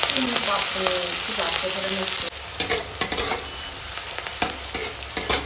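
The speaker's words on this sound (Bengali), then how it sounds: "ফোড়নও দেবো পাঁচ ফোড়ন আর দিয়ে দেবো কেটে রাখা পেঁয়াজ কাঁচা লঙ্কা সব একসঙ্গে ভেজে নেবো" Panch phoron, chopped onion and green chillies fry in hot oil and are stirred, with a loud sizzling hiss that drops abruptly, then scraping utensil clatters and bursts of crackle, close up.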